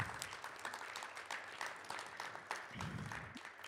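A church congregation applauds after the offerings and tithes, a steady wash of many hands clapping that is quiet and somewhat distant, running throughout with no pause.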